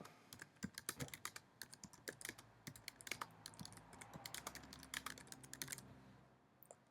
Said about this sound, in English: Now I'll type this and just bear with me.